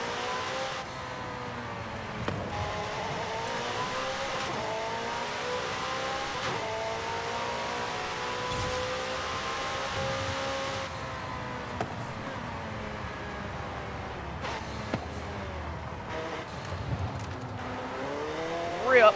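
Car engine in a street racing video game, a steady drone whose pitch rises and falls as it revs and shifts, with a few sharp clicks and knocks over the top.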